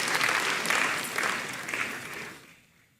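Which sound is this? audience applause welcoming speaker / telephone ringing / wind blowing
audience applause welcoming speaker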